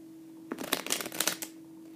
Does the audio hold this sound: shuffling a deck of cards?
yes